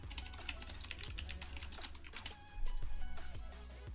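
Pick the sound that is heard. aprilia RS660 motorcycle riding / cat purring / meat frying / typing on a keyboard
typing on a keyboard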